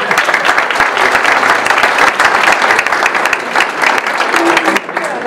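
A hall full of people applauds at a departmental council medal and retirement ceremony in Morbihan, loud, dense clapping held steady throughout before it thins at the end.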